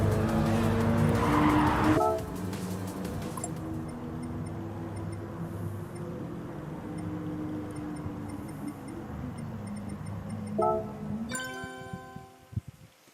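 Race cars in Gran Turismo 7 qualifying: a loud engine roar at first, then a sustained tonal engine drone with shifting pitch, a brief surge late on, and finally ticking clicks as it fades.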